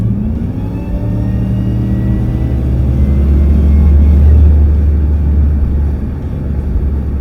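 A 1970 Chevelle with an 840-horsepower engine accelerates hard through an on-ramp corner, its deep exhaust roar building steadily and staying loud and close throughout, peaking midway before easing slightly.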